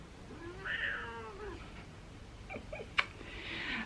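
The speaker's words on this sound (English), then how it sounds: "She's purring, I promise she likes this." A house cat meows in a drawn-out, whiny call, followed by fainter chirping sounds and a sharp little snort, close by in a quiet indoor room.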